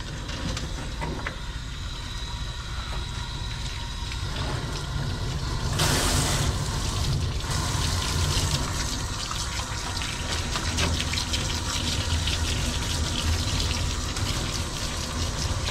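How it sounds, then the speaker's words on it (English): Steady rushing spray of water rinsing a dog during a hand bath, a continuous broad hiss that swells briefly partway through, close and unbroken, with no talking. "I am going to rinse her off, the majority of her off"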